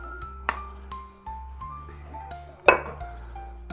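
Chives and sour cream go into a white bowl for loaded potato soup, giving a few scattered dish clinks and one sharper ceramic clank near the end, with no talking.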